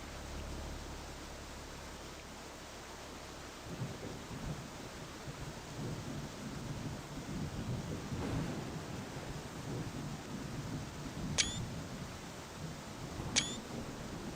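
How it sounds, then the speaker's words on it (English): Steady hiss of rain and low rumbling thunder in the tornado-chasing game Tornado Research & Rescue, with two sharp camera shutter clicks toward the end and no voices. "now it's raining"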